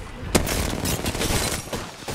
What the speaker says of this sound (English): I unloaded an entire mag into him